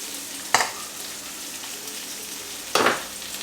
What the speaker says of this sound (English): I pour in some chopped onion to sizzle those, stirring the butter in